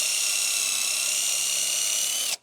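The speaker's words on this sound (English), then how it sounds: "And now go ahead with the countersink." A power drill with a countersink bit spins at high speed into a wooden table leg, a steady close whine lasting about two seconds before it cuts off abruptly.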